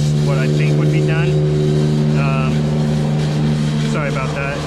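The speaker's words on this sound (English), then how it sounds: "I live close to a highway, so there's a little bit of traffic noise coming by." Steady traffic noise from a nearby highway rumbles as a continuous low drone under the whole stretch, with engines passing by in the background.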